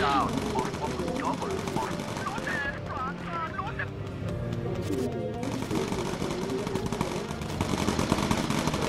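Turret gunners on a bomber in the video game Bomber Crew fire in rapid, continuous machine-gun bursts under droning engines and game music, with a voice talking over the action.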